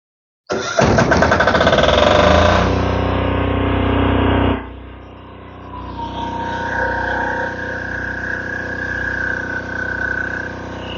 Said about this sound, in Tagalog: Start naman natin yung ating generator at silipin natin yung lumalabas na voltage sa kanya.